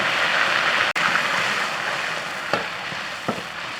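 Chopped chili and Sichuan pepper stir-fry in lard, a dense steady sizzle with a couple of light spatula knocks, close and without talk.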